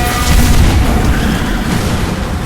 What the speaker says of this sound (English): A head-on collision at this speed.